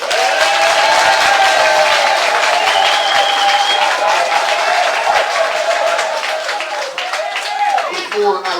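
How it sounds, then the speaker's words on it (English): A school gathering applauds the arriving president, a loud, sustained wash of clapping from a crowd with voices and other sounds mixed in throughout. "let us give our Excellency a round of applause"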